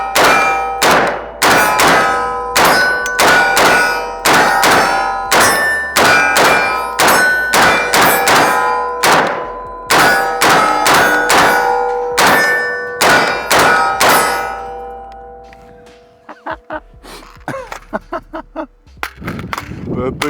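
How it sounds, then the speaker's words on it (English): An FN 15P rifle chambered in 300 Blackout fires its first magazine at a range, about two dozen loud, sharp shots in a rapid, fairly steady cadence, followed by a few quieter clanks and handling noises. "This is the FN 15P 300 Blackout. This is gonna be the first mag through it, and let's see how she runs."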